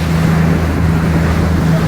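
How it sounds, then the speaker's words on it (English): A DJI fast boat crossing open sea toward Lombok, its engine a steady low drone under continuous rushing water and wind buffeting the microphone, loud and unbroken throughout. "We are on the DJI fast boat headed to Lombok."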